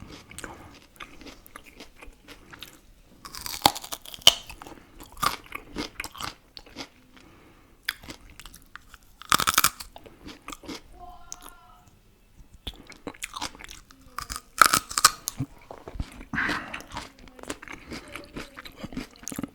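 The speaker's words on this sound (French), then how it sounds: "je suis pas sûr que je vais manger le fond du carotte parce que c'est hyper dur à croquer" Raw carrot being bitten and crunched close up, with sharp, loud crisp snaps spaced irregularly between quieter stretches of chewing, no talking.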